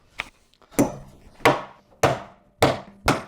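Five sharp, hollow wooden knocks from a handmade traditional carpenter's mallet being test-struck, each a close, loud thwack spaced roughly half a second apart, preceded by a softer tap.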